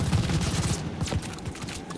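Rapid automatic fire from an MP-40 submachine gun in Call of Duty Vanguard, a dense continuous burst of loud, close shots lasting about two seconds.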